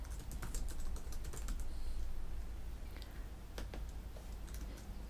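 Rapid typing on a computer keyboard, quick irregular clicks in short bursts close to the mic with brief pauses, fairly quiet over a low steady hum.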